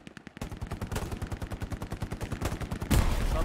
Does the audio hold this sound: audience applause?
no